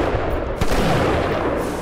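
Gunfire in the BioShock video game, a dense continuous burst of loud shots with a sharp crack near the middle, filling the whole moment with no voices.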